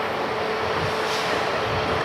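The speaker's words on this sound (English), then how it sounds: "this is the holiday train" A holiday train that comes every year at the start of a festival rolls past with a steady, loud, broadband rumble and rush, unbroken for the whole short stretch.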